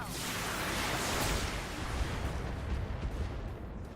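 Mech weapons fire in the BattleTech video game, a dense, loud, continuous rumble of overlapping blasts and booms that fades slightly toward the end.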